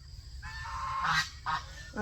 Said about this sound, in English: you hear the goose honking behind me